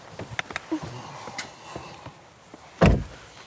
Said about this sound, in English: it takes a hefty tug to pull the door down too